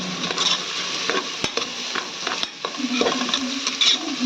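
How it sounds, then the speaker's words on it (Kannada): Food frying in a hot pan with salt just added, a dense close sizzle with repeated scraping and tapping of a spoon as it is stirred, no voices. "ಚೆನ್ನಾಗಿ ಫ್ರೈ ಮಾಡ್ಕೋಬೇಕು"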